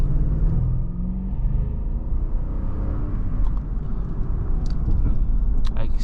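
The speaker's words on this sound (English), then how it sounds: "Alright, now let's feel some acceleration from this V8." A 2021 Toyota Land Cruiser with a V8 accelerates on the road, a deep engine rumble heard from inside the cabin that builds steadily over several seconds.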